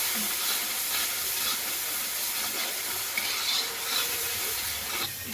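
Spice paste with chili powder, sugar and a little water frying and being stirred in a pan, a continuous soft sizzle and hiss with occasional scraping stirs, close and steady.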